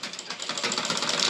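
Sewing machine running steadily as it stitches a seam through fabric, a fast even mechanical whir with rhythmic clatter, close and fairly loud throughout.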